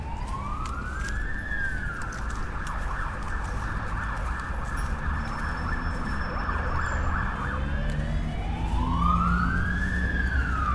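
An old fire engine's wailing siren rises and falls as it passes along a busy Sydney street, loud over steady traffic rumble, sweeping up again near the end.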